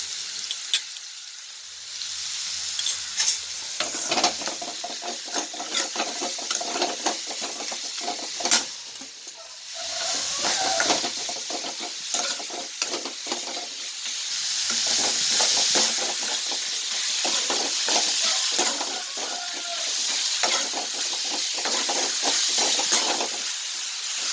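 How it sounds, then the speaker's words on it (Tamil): Onion, green chili and curry leaves sizzle in a hot pan for anchovy dry fish thokku, a steady close frying hiss with occasional scrapes and stirring clatter, no talk. "பெரிய வெங்காயம் பச்சை மிளகாய் கருவேப்பிலை போட்டு வதக்கிட்டு இருக்கேன்"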